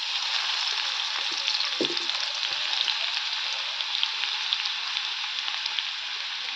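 Garlic sizzling in hot oil as a tempering is prepared, a steady close crackling hiss running throughout, with one brief soft clink of a utensil early on and no voices.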